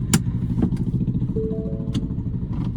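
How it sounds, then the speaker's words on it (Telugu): A 2020 Ford Endeavour Titanium diesel engine starts by push button and settles into a steady low idle, with a few sharp clicks and a brief electronic beep over the hum. "సో డీజిల్ ఇంజన్ సౌండ్ కాబట్టి ఇట్లానే ఉంటుంది"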